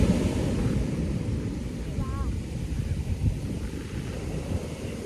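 Wind and sea waves roll steadily at a sunny seashore as a continuous broad rush, with a faint brief voice in the middle.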